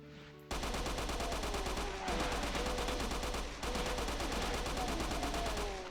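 An SMG in a Doom mod fires in long, rapid automatic bursts, loud and close, with two brief breaks between the streams of shots.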